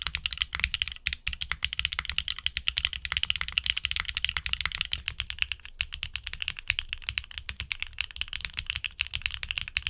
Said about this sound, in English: The Xinhais have a distinct, high-pitched clack that really sets them apart.